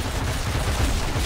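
Rapid gunfire from guns in the Marvel Heroes Omega video game, a dense, noisy burst of shots close and loud across a brief moment.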